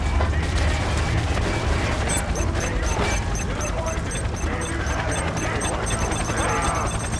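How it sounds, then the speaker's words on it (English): Gunfire in the video game 50 Cent: Blood on the Sand runs as a dense, loud fusillade of shots and impacts over a constant rumbling game background. "Shoot them as they get out."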